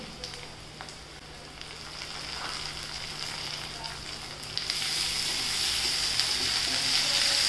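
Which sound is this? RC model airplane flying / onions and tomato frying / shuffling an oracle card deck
onions and tomato frying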